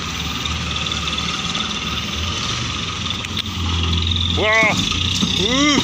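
Loaded truck with a new 210-horsepower engine hauling about ten tons uphill toward a starch mill, a steady loud engine drone with turbo whistle rising near the end while someone talks over it.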